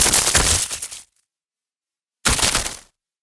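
A synthesized lightning effect with tremolo and vibrato gives a sparky, zappy sound in two harsh bursts: one about a second long and a shorter one after a silent gap.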